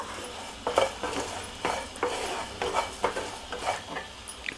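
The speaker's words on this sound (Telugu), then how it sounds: "ధనియాలండి ఒక స్పూను ఇవి నిదానంగా వేయించుకోవాలండి కొంచెము కలర్ మారేదాకా" About a spoonful of coriander seeds roasts slowly in a pan, stirred in a run of soft scraping, rattling strokes over a faint low sizzle, close and fairly quiet.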